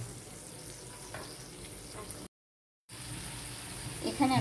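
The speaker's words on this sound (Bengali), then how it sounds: "তো আমি চিংড়ি মাছটা ভালোভাবে তেলের সাথে এখন একটু ভালোভাবে ভেজে নিব" Small local shrimp frying in oil in a pan, a soft, steady sizzle broken by a brief moment of total silence, with some light clatter and stirring near the end.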